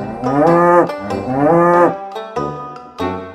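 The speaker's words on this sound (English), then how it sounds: "It's a cow." A cow on a farm moos loudly and close by, two long drawn-out lows in a row, then a few shorter grunting calls.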